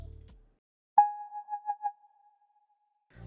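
A Diva synth plugin lead on the TUC Single Cell Warbles patch plays a single sustained accent note with a few wobbling pulses, fading out alone in near silence between brief bits of other sound at the edges.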